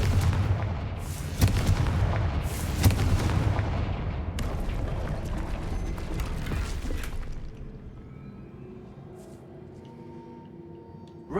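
Confringo fire spells in Hogwarts Legacy, a string of loud blasts and booming impacts in the first half that then fades to a quieter ambient tail.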